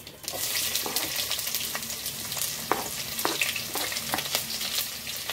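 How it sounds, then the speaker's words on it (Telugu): Onions frying in oil with cumin and mustard seeds, crackling and sizzling loudly and close, with sharp pops and occasional stirring scrapes over a continuous hiss. "ఆనియన్ వేసుకున్న తర్వాత కొంచెం కలర్ బ్రౌన్గా రావాలి. సో ఇలా బాగా వేగాలన్నమాట."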